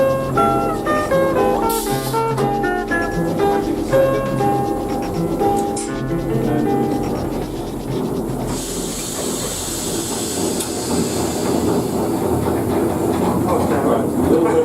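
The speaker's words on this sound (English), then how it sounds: "clanking on the track, wheezing pistons, smoky funnel, turning wheels go clickety-clack" A steam train chugs and hisses with a rhythmic clickety-clack of wheels, layered with bright music throughout and a rush of steam partway through.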